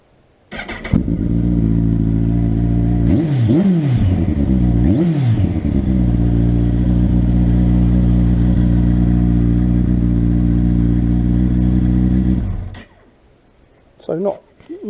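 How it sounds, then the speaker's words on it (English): Kawasaki ZZR1400 sport bike fitted with new exhaust cans, idling steadily close up with two sharp throttle blips early on, then settling back to a deep, even idle before cutting off, with a brief voice at the end. "let's see what she sounds like now."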